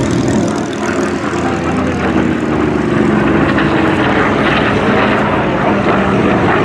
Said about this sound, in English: Beautiful sound around there, the Bearcat and the two Corsairs